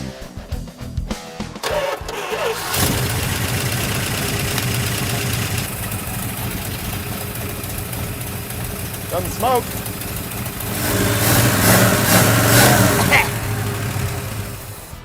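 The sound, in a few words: junkyard Plymouth 'Cuda car engine running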